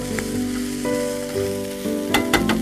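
Chicken stir-frying in a pan for a chicken stir-fry with roasted cashews, a steady close sizzle with occasional stirring scrapes and louder bursts toward the end, no voices.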